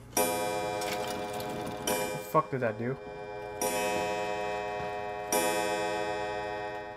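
Pendulum clock ticking in the Resident Evil 7 video game, a steady tick-tock with sustained ringing tones, while someone speaks briefly in the middle.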